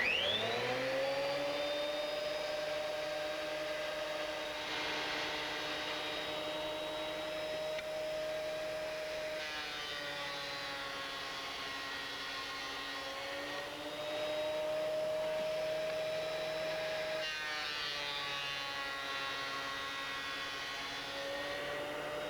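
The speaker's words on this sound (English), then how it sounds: "to make all the pieces uniformly thick, and to do that, I'm going to run them through my surface planer" A surface planer feeds wooden boards to bring them to uniform thickness, giving a loud, steady motor whine with a sustained pitched hum that shifts slightly as each board passes through, running continuously with no talk.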